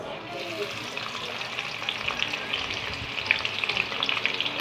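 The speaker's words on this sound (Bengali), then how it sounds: "এবার তেলটা গরম হয়ে গেছে, এবার আমি দিয়ে দেবো পেঁয়াজ।" Onions crackle and sizzle in hot oil in a pan, a dense bright hiss broken by small pops and occasional stirring scrapes, steady and close without speech.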